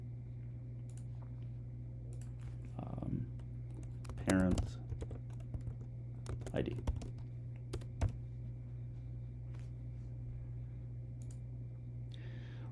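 A computer mouse clicks sparsely and faintly, with a few isolated taps spread over a steady electrical hum. A person briefly speaks.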